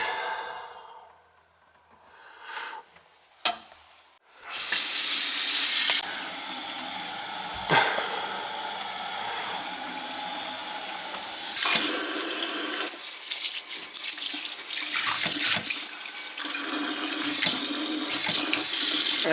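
Water runs steadily from a newly installed Delta kitchen faucet into the sink, starting after a few quiet seconds and a couple of knocks, then pouring loud and continuous, growing brighter and splashier partway through.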